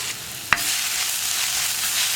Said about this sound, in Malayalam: നമുക്കിതിലേക്ക് നമ്മൾ ക്രഷ് ചെയ്ത് വെച്ചിരിക്കുന്ന വെളുത്തുള്ളി, ഉള്ളി, പച്ചമുളക് എല്ലാം ചേർന്ന് മിക്സിട്ട് കൊടുക്കാം